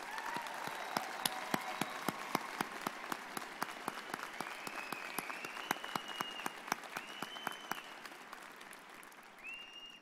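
Sustained audience applause at a university College of Nursing spring convocation, steady dense clapping filling a large hall, with a few sharper individual claps standing out and faint voices underneath.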